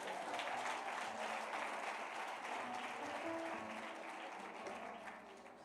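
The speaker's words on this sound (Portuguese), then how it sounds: "Aplaude a Deus aí," A church congregation applauds during a worship service, a dense, sustained clapping that fills the room at fairly steady loudness and slowly tapers off toward the end.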